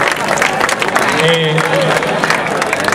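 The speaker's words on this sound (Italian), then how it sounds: "al quale davvero dedicherei un grande applauso" Audience at an awards and speeches ceremony for the Asti and Acqui bands breaks into steady, loud applause with scattered cheers, dense clapping filling the whole stretch while a voice briefly speaks.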